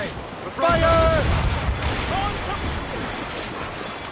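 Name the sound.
ship cannons firing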